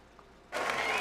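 Applause sound effect played during an airbrush tutorial livestream, bursting in suddenly about halfway through and continuing steadily at moderate level with no talk.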